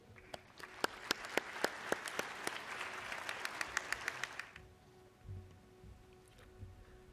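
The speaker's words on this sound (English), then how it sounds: "I think we all deserve a round of applause for this." A crowd applauds with sharp, distinct claps for several seconds at a university commencement ceremony, then the clapping fades out into a quiet room.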